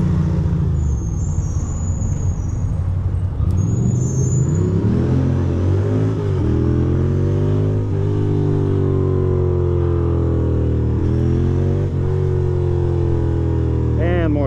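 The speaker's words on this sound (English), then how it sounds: "Why is there so much traffic?" Heavy New York City road traffic heard from a Ducati motorcycle: loud engine drone and rising, falling revs, with a brief high tone and passing vehicles, sustained and close.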